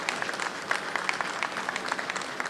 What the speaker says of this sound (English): Let's hear a round of applause for National Bike to Work Day.